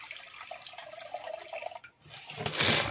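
Water is poured into a pan of frying spice paste, giving a faint bubbling sizzle that rises into a louder hissing splash at the end, heard close up.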